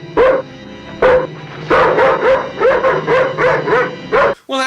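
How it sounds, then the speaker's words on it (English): A dog in a horror film scene barks in a string of sharp, loud yips mixed with whimpering, at a steady repeated rhythm up close, ending with a brief hiss of other sound. "Well, that doesn't mean I want a dog to die."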